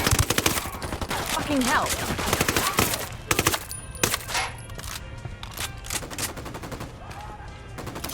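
Gunfire in Ghost Recon Wildlands, with dense rapid volleys and single sharp shots up close that thin out toward the end, and a voice speaking briefly between the bursts.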